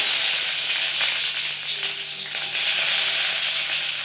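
Onions sizzling in a pan of hot oil for a meat curry, a steady bright frying hiss running throughout with faint stirring, no voices.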